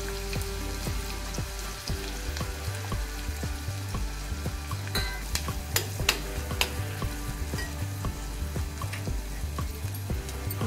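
Two finely chopped medium onions fry in oil with a mustard seed and cumin tempering for chana masala, giving a steady close sizzle with crackling pops and occasional stirring clinks against the pan, no talking.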